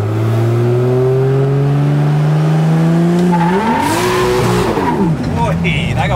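A car with an 8-speed transmission and a fitted clutch pedal revs hard, with engine tone climbing quickly as the tires spin and squeal in a short burnout; loud and close, the whine rising and then wavering.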